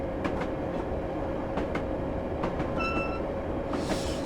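A London Underground D78 Stock train runs along the rails with a steady loud rumble, periodic clicks of wheels over rail joints and a brief high squeal near the end.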